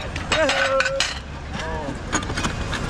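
Plates and dishes are handled and set in order, with short ceramic clinks and clatter close by and a faint voice under the noise.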